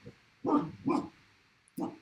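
A dog barking three times nearby, two quick barks close together followed by a pause and a third.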